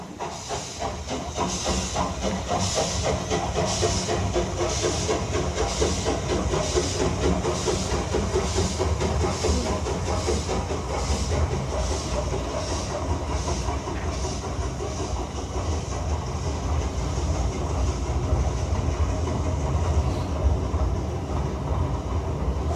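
A steam train rolls along with loud, continuous hissing steam over a rhythmic clickety-clack of wheels on rail joints, close and sustained throughout with no voices.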